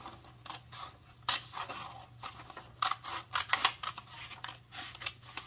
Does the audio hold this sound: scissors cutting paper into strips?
yes